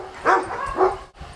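Dogs bark in the yard of a boarding kennel: two short, loud barks about half a second apart, fairly close, with faint yard noise around them.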